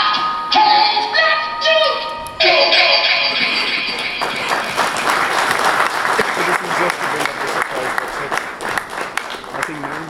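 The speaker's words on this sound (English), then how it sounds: "Let's give them a big round of applause." Audience applause at a motorcycle launch event for the TVS Apache RR 310, loud sustained clapping from a crowd that carries on under a presenter's amplified voice.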